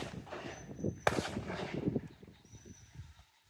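A single sharp gunshot rings out at a countryside pheasant shoot, a loud crack that fades into quiet open-air background.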